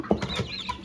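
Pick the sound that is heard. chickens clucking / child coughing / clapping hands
chickens clucking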